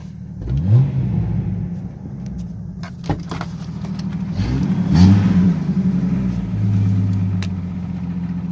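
A Jeep ZJ fitted with a new exhaust rumbles at idle with a deep, throaty tone, then takes a couple of quick revs that swell and fall back, heard close up and alone.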